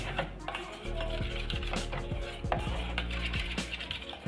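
A spoon scrapes and clinks against a hot pan while butter and flour are stirred together over high heat, with a faint sizzle under quick repeated metallic taps; a voice speaks intermittently.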